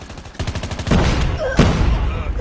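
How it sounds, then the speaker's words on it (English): Close gunfire from a COD Mobile match: a rapid string of sharp shots swells into heavier overlapping bursts, loud throughout with no voices. "Random stray bullet."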